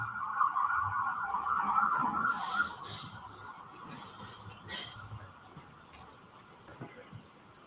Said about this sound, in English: Mr. Wolk, if you can go back just and wait until the sirens pass, please.